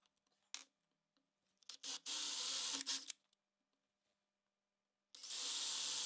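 A drill bit bores into a wooden box in short bursts, a harsh rasping whir starting and stopping with silent gaps between, close and fairly loud.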